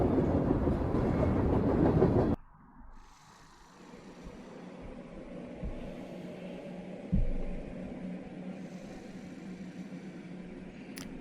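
In the horror game Darkness Within 2: The Dark Lineage, a train rides along its rails. A loud rush in the first two seconds drops into a low, steady rumble with occasional dull clunks, and no voices.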